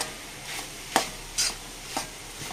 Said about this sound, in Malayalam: ഇടയ്ക്കിടയ്ക്ക് മൂടി തുറന്ന് ഇളക്കി കൊടുക്കുന്നു